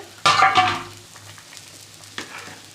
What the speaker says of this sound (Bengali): একটু নাড়াচাড়া করে দিলাম।